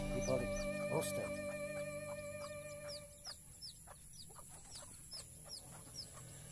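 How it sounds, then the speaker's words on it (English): Bantam rooster and hens at a newly built seaside resort: a rooster crows loudly near the start, then repeated clucks and chirpy calls continue from nearby, with birdsong in the background. "Bantam rooster."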